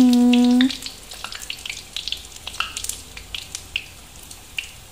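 Potato and mozzarella balls frying in hot oil give a scattered, crackling sizzle with sharp pops. A brief steady tone sounds at the very start, then the crackle continues at moderate loudness.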